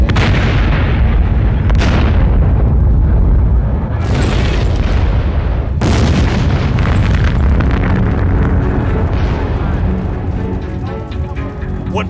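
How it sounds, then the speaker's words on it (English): Chemical barrels exploding one after another inside a burning, collapsed building at night: loud booming blasts, several sharp detonations at irregular intervals over a constant roaring fire and rumble. "And one by one, the barrels start to explode."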